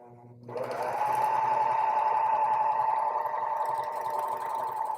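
A serger sewing machine stitches along a fabric edge and chains off it, starting after a short pause and then holding a steady, loud, close mechanical whir for several seconds, with no talk over it.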